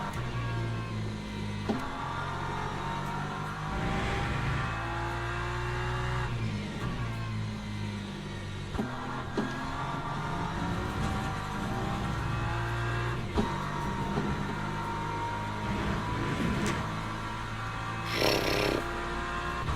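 Race car engines in the game Le Mans Ultimate at Spa drone and rev continuously, rising and dropping through gear changes, with other cars roaring past nearby.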